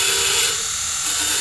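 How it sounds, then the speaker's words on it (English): A 3/8-inch drive Hazet socket being ground down, giving a steady, loud, high-pitched grinding whine that runs unbroken for the whole moment. "create a socket that fits by grinding off every bit of this 3/8 drive Hazet socket"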